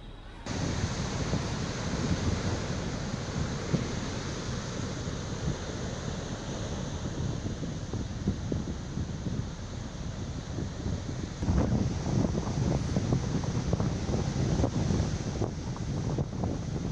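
Strong winds from Cyclone Ditwah lash the Tamil Nadu coast, with high waves. Gusts batter the microphone in a constant loud roar over the rumble of surf, growing rougher toward the end.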